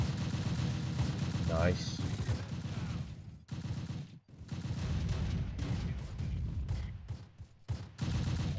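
Battlefield gunfire in the WWII game Close Combat at La Fiere Causeway, with bursts of rifle and machine-gun shots and crackling volleys, fairly loud, while someone speaks briefly between the bursts.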